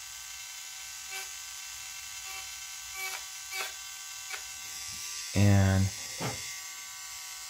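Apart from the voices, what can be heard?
small handheld tool slowly grinding brown areas out of an object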